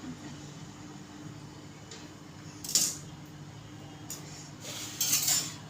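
A knife slices boiled eggs in half on a plate for an egg tawa masala, giving two brief, faint clinks and scrapes, one around the middle and a longer one near the end, with no talking.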